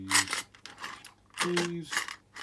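Metal keys and padlock shackles clink and jangle as they are handled in a lock workshop, in two short clattering bursts separated by a brief lull, close and moderately loud.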